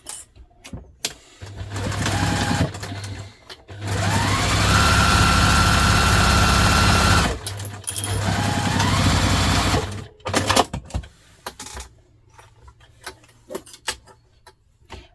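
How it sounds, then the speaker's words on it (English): A sewing machine stitching the lining of a zippered vinyl project bag, running in steady bursts of rapid, close mechanical whirring with brief pauses and clicks between runs. "then we're going to sew to the end"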